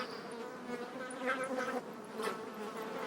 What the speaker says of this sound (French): Les abeilles ne piquent que quand on les attaque.